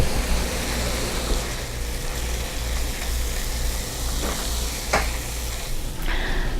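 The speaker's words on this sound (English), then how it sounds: "we're going to mix this all up and heat it all the way through." A seasoned Mexican meat mixture heats and gets stirred in a pan, giving a constant soft sizzle with a few scraping strokes of the utensil near the end. Nobody speaks.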